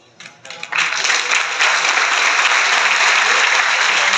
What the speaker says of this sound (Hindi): गुजारिश है कि हर दुरुस्त जवाब के बाद तालियों से हौसला अफजाई की जाए